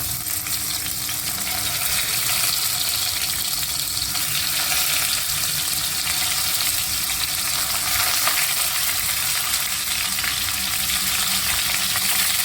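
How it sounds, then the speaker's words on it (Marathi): Oil heated in a pan with asafoetida for a traditional brinjal dish gives a loud, continuous hissing sizzle that stays even throughout, with no talking. "मी थोडंसं तेल, थोडं 1 पळी तेल, हिंग टाकते आहे। तेल छान तापलंय।"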